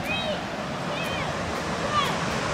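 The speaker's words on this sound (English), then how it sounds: "we hit up our last waterfall on our way to Highlands" Steady rushing water of a waterfall at Cashiers Sliding Rock, a broad continuous roar with a few faint bird chirps over it.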